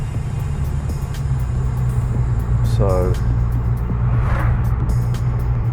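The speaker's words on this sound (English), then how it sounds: "just going to go for a test drive now in this R32 VW Golf" A VW Golf R32 with a DSG gearbox on a road test drive after a carbon clean, steady low engine and road drone filling the cabin throughout, someone speaking briefly over it.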